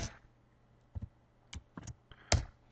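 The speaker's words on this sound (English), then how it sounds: "One-handed, I'm typing it in" A few scattered keystrokes tapped one-handed on a computer keyboard, quiet and close, separated by pauses with a faint steady hum underneath.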